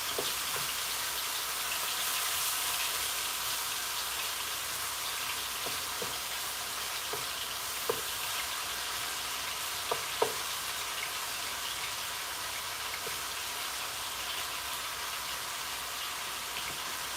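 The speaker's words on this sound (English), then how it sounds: "While this is frying" Eggplant sizzles and crackles steadily in hot oil in a pan, a soft continuous frying hiss with a few small pops, no talking.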